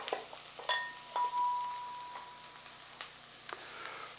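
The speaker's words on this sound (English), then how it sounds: "We've reintroduced the bacon into the pan, and we're going to let all of those flavors meld together." Bacon frying in a pan gives a quiet, steady crackle and sizzle with scattered sharp pops and a brief metallic ring of a utensil, continuing alone without talk.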